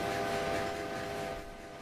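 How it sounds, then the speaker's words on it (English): A train in the Railway Empire strategy game, Down Under scenario: a steady rumbling rail drone with faint tonal whistle-like lines, continuous and fairly quiet, easing slightly toward the end. "Waiting on the train coming out of there"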